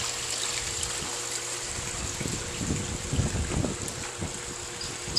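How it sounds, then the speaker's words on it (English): Water trickles and splashes softly from a small waterfall pouring into a backyard swimming pool, with a steady background hiss. "A little waterfall action here in the pool."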